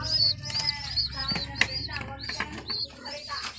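Pigeons coo and chirp close by, with a flutter of wings and a few human voices murmuring underneath.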